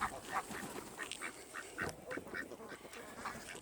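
A drake duck quacks repeatedly in a quick, uneven series of short nasal calls, fairly close but not loud, with no talking over them.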